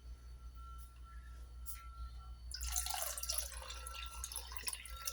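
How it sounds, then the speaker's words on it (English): Water poured into a pan of onion sambhar during cooking, a sudden burst of splashing and trickling that starts partway through and continues steadily at close range after a quiet stretch. "Now I will add water to it."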